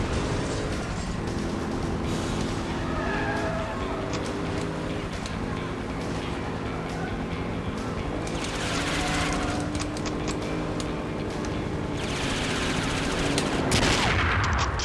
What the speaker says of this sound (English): you're in the chopper, and you've got to shoot with the sniper rifle